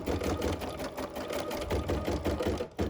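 An embroidery machine runs a basting stitch around a design in the hoop, a fast steady mechanical rattle with rhythmic needle pulses, close and continuous.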